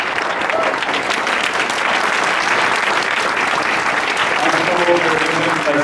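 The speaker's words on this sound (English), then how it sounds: "Ladies and gentlemen, how about our big round of applause for this incredible" A packed theater audience gives loud, dense, continuous applause after a film screening at the Angelika, with voices audible beneath the clapping throughout.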